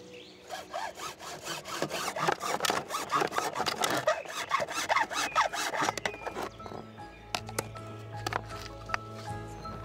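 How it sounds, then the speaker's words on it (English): A hand hacksaw cuts through plastic guttering in quick, rhythmic back-and-forth strokes for about six seconds. Then it stops, leaving a few quieter knocks and a low hum. "I'm going to cut it with a hacksaw"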